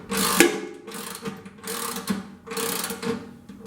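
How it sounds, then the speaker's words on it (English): A ratchet wrench tightens a threaded part in a puck install, its pawl clicking through several back-and-forth strokes, close and clear with no voices. "I'm switching the wrench and going back in."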